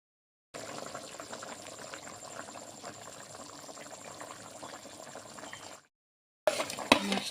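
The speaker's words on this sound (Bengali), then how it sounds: "দিয়ে দিই, অল্প জল দিব" A little water poured into a cooking pot while salted hilsa fish is being cooked, a steady soft bubbling pour lasting several seconds, then a brief pause and a short clattering splash.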